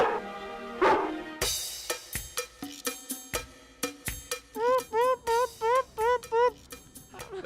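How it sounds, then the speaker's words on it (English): A dog barks in a short series of close, sharp yips and woofs, with a run of evenly spaced rising barks near the end and no one talking over it. "the dog is barking"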